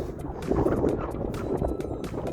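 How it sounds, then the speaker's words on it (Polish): Wind blows across a freshly sown, rolled farm field, buffeting the microphone with a low, continuous rumble that swells and eases. "wiatr wieje"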